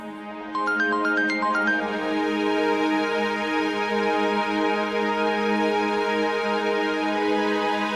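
A mobile phone plays a melodic ringtone that starts after a short gap and then holds loud and steady for several seconds, a short tune followed by a sustained tonal chime, with no voices.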